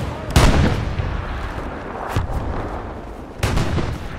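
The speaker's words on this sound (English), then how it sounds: "They're starting to hit Cabbage Patch now with the artillery." Artillery shells landing in the video game Hell Let Loose, three heavy booming impacts spaced a couple of seconds apart, loud and close, with rumbling debris and distant battle noise between them.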